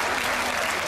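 Brief burst of dense audience applause greeting a guest as he is welcomed on stage, a steady even clatter of many hands throughout.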